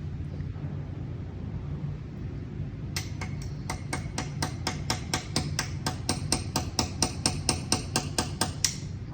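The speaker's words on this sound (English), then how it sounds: "let's drive the nail in" Rapid, evenly spaced metallic taps of a tiny armoring hammer driving a nail, starting after a few seconds of low background rumble and continuing in a steady, close run of about two dozen strikes.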